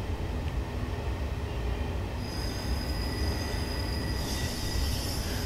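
A Bombardier Traxx 186 electric locomotive runs in the Train Simulator 2021 video game on an IntercityDirect service toward Rotterdam Central, with a steady quiet rolling rumble and high whining tones that rise and brighten in the second half.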